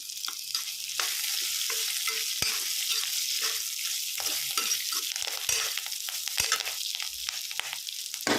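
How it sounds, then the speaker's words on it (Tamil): Curry leaves and onion for beetroot chutney sizzle steadily in hot oil while being stirred, with scraping utensil clicks over a continuous bright frying hiss and no talking. "எண்ணெயில் நல்லா வதங்கி எடுத்துக்கலாம் சிறிதளவு கருவேப்பிலை சேர்த்துக்கலாம்"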